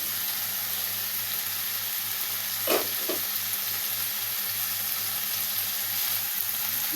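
Potato and papaya cooking in a covered pot for a vegetable curry, a continuous low hiss and bubbling sizzle with a couple of brief clinks partway through, steady and moderately quiet, no voices.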